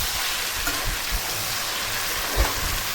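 Potatoes frying in hot oil for a Bengali mutton kosha, giving a steady, dense, rain-like sizzle throughout with a few soft bumps, close and fairly loud.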